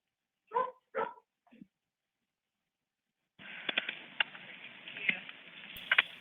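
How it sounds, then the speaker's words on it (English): Dogs bark a few times, close and sharp, then a steady noisy wash of background sound follows with more faint barks scattered through it. "You can hear the dogs barking."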